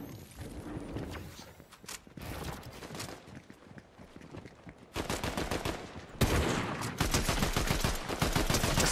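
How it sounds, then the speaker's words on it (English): Warforged assault rifle from Fortnite Season 2 firing in rapid automatic bursts, growing louder and denser in the second half, with a steady game soundscape underneath and no speech. "Assault rifle go crazy."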